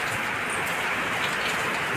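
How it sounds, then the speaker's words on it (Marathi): Heavy rain pours steadily onto a sheet roof and house, a dense, even hiss without pause and no voices over it. "मस्त जोऱ्याचा पाऊस चालू झालेला आहे"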